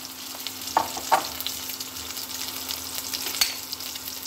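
Steady sizzling of spices frying in oil in a pan for fish masala curry, close up, with a few sharp clinks of a utensil stirring.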